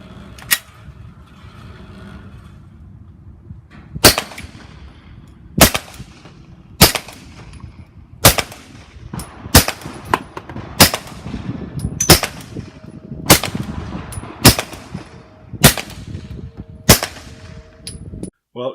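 Suppressed pistol firing SIG subsonic 147 grain ammunition: about a dozen sharp, evenly spaced shots over a low background rumble, with faint voices in the gaps.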